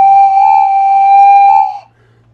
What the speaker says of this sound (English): It's a train whistle.